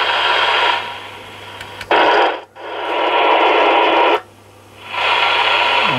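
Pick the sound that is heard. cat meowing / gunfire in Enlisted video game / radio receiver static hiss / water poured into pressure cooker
radio receiver static hiss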